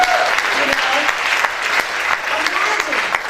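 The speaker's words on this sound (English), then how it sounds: "You can clap as a church." A church congregation at a Sunday service claps together, a dense, steady round of applause filling the room with speech faintly mixed in.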